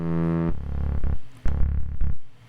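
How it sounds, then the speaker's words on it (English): A gritty, distorted synth and bass loop plays with a harsh, crunchy edge, punctuated by punchy drum hits. "A little bit of clip distortion to nasty it up a bit."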